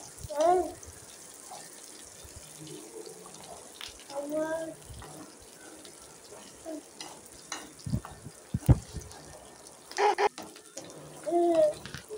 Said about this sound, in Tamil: ரெண்டு ரெண்டு துண்டு பட்டை சேர்த்துட்டு கிளறி விட்டுருங்க